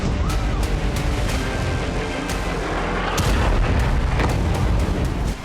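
Heavy bombardment from IDF strikes on Syria, with repeated sharp booms and blasts over a dense rumbling roar, loud and continuous with irregular impacts throughout.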